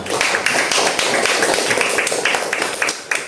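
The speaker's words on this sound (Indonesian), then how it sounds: "Tepuk tangan untuk Anissa." Students clapping in a Hindu religion class, a burst of loud, uneven claps close by that patters on for a few seconds with faint voices underneath.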